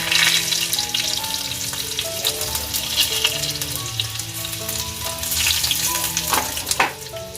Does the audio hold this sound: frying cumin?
yes